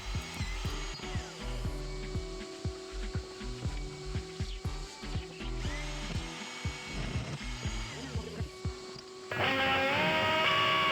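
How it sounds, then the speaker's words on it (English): A bigger drill bit running while a chamber is built for a Sculpfun S9 laser engraver; a steady, close, loud whirring power-tool drone with small rhythmic bumps, growing harsher near the end. "Now let's go with a bigger drill."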